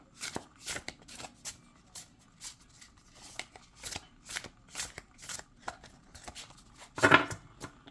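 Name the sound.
shuffling a Serpent and the Peacock tarot card deck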